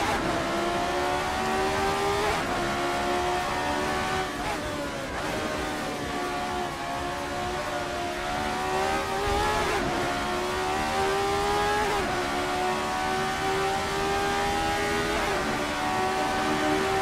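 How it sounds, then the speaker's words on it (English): Race car in the Assetto Corsa racing game spinning donuts on a start-finish line, its engine whining in a loud continuous drone with pitch swooping up and down in repeated cycles. "just a car doing donuts on the start-finish line"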